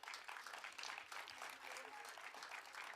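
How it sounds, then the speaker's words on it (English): A crowd claps continuously, a dense, even patter of applause that holds steady from start to finish. "Let's give them a round of applause."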